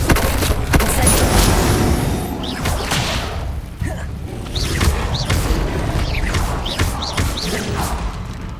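Incendio fire spell cast repeatedly in Hogwarts Legacy, heard as loud whooshing blasts and booming thumps in an ongoing spell-combat sequence, with dense game effects throughout.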